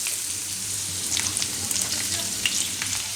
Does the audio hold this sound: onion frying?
yes